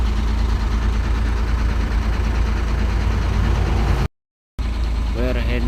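A Hino 500 Ranger FM 285 truck idles close by with a loud, steady low diesel rumble, briefly cut out, then resumes as a voice speaks over it.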